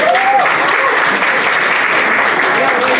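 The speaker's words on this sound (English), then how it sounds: "Can we have another round of applause?" A loud, dense round of applause from a New Year celebration audience after a small child's song, steady clapping throughout with a voice briefly audible at the start.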